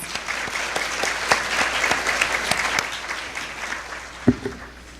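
A conference audience gives the workshop presenters a steady round of applause, dense clapping that holds for several seconds before thinning out at the end.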